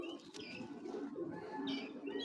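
Racing pigeons coo softly in their loft, overlapping low burbling calls with a few faint chirps, quiet and close with no talk.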